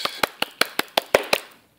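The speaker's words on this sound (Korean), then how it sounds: "마치 한 사람이 10명의 박수를 치는 듯한 박수소리가 들렸습니다." Elementary school classroom clapping during a third-grade science lesson: seven crisp, evenly spaced claps in quick rhythm, close and fairly loud, each one sharp and distinct before fading into silence.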